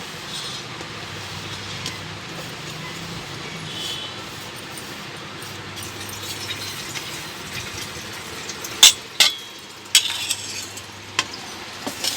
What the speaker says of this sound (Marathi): आता आपण गॅस चालू करून मसाले भाजून घेऊ पहिल्यांदा सुके खोबरे भाजून घेऊ